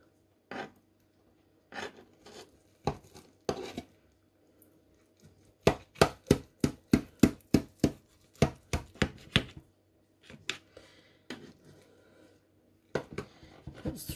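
A knife cuts down through lasagne in a slow cooker, a run of sharp scraping and tapping strokes, a few sparse at first, then a quick close series, then scattered strokes after a pause.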